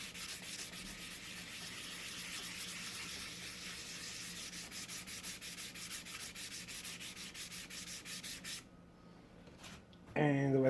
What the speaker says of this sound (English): I'll just go over it with the sandpaper.